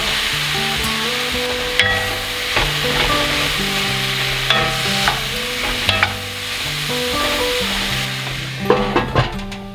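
Mushrooms sizzle in a hot pan for a vegan lasagna while a utensil scrapes and stirs them, steady close frying with irregular clinks and scrapes throughout.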